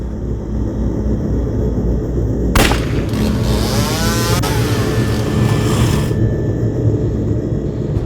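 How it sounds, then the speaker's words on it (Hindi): A motorcycle speeds past a house on a street, with a sharp bang from its silencer followed by a rising and falling whoosh of engine noise over several seconds, set against steady background hum. "यहाँ से एक बाइक स्पीड से गई, लगता है साइलेंसर फट गया होगा उसका।"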